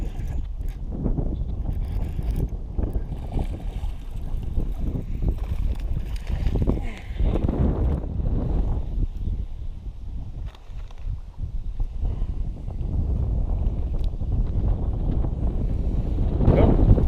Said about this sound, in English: I don't know if y'all can hear me with all this wind